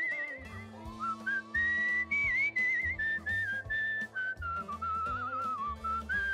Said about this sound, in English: We can just whistle on the way there.